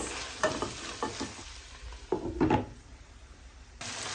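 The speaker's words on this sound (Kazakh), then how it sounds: "енді келесі сәбізімізді салып, тағы да 5 минут қуырып аламыз" Carrots added to onions frying in a pan, with a few quiet close scrapes and knocks of a stirring utensil over a faint sizzle, then a brief lull.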